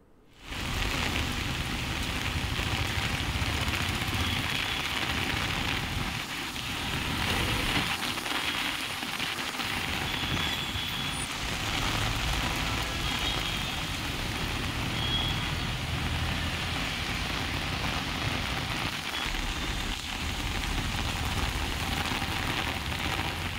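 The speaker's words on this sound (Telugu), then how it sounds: "రైట్గా హైదరాబాద్లో అయితే పలు ప్రాంతాల్లో విస్తారంగా వర్షాలు కురుస్తున్నాయి" Heavy rain falls steadily across Hyderabad streets, a continuous loud hiss of downpour with faint traffic rumbling underneath. It runs without a break for the whole stretch.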